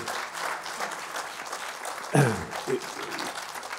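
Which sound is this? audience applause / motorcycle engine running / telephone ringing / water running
audience applause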